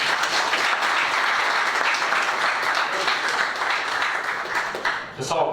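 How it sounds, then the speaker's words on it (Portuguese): Dense, steady applause fills a public hearing on fighting the dengue mosquito, many hands clapping loudly and continuously before tapering off near the end. "Salve de palmas"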